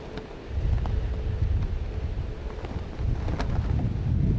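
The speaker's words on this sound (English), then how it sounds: "the wind is blowing so hard today" Strong outdoor wind buffeting the microphone with a continuous low roar and gusty swells, no talking.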